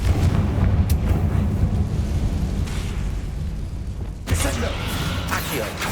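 A Confringo blasting spell explodes in the Hogwarts Legacy video game, a loud sudden burst partway through over a steady rumbling game soundscape, with talk heard beforehand.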